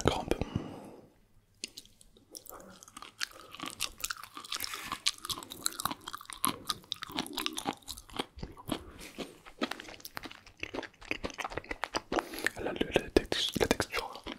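Sushi being chewed close to the mic, with dense crunchy, wet mastication clicks running through the whole stretch alongside soft whispery breaths.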